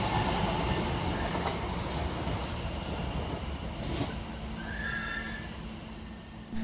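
A London Overground train rolls past Seven Sisters station, a steady rumbling clatter of wheels on rail that eases slightly over a few seconds, with a brief high squeal partway through and no talk.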